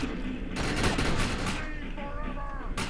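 Pistol fire in the video game Defiance, a rapid burst of loud, close shots that blur together, followed by fading rattles and other game sounds.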